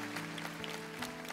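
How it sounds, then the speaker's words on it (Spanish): A church congregation applauds during a worship service, a steady, dense patter of many hands clapping at moderate volume with a low hum underneath, lasting only a moment. "Ese aplauso es para Cristo."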